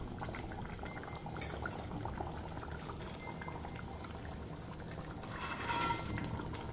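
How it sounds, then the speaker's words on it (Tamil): Vadas drop into a thick, simmering lentil vada curry, a soft bubbling simmer with a few plops and splashes, one louder burst near the end, no speech. "இந்த ஸ்டேஜில் தான் நம்ம வடையை சேர்த்தணும்."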